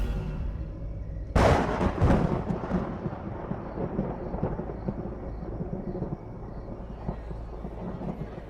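Thunder in a dramatic scene: a sudden loud crack near 1.4 seconds, then a long, heavy rumble that rolls on and slowly fades.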